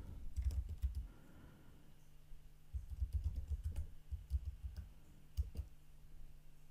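Bursts of quick keyboard typing as a password is entered on a computer, in short clusters separated by pauses, close and fairly quiet with no voices.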